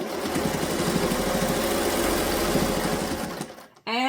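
A sewing machine stitches a pot holder seam with a fast, steady mechanical chatter, close and continuous for about three seconds, then stops with a brief clunk.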